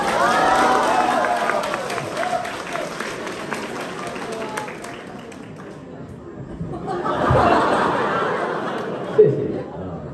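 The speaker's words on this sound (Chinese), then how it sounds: "谢谢您的热情掌声啊" A theatre audience at a crosstalk comedy show at Deyunshe's Tianqiao venue claps in a dense, rolling wave that fades in the middle and swells again, with some laughter mixed in.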